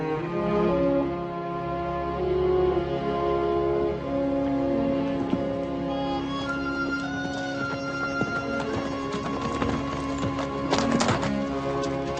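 A horse whinnies amid thudding hoofbeats and scattered knocks, with sustained tonal background; no speech.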